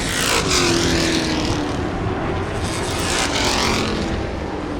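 Modified and Limited Late Model race cars roar around a dirt oval, loud continuous engine noise with two passing swells as cars sweep by close, no talk.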